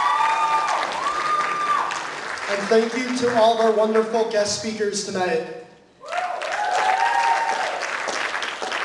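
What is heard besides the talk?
audience applause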